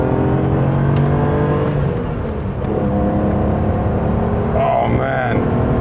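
A BMW E31 850i V12 accelerates with a steady, loud engine drone that rises and builds over several seconds, voices talking over it inside the car.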